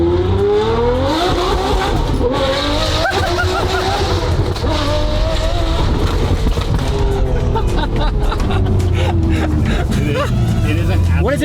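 Ferrari 599 V12 engine revving hard toward almost 9,000 RPM, its rising and falling pitch sweeping loud and close with excited voices talking over it throughout.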